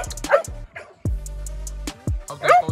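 A gamebred bulldog gives a few short, soft, low barks and yips up close, with quiet gaps and a brief whimpering tone between them.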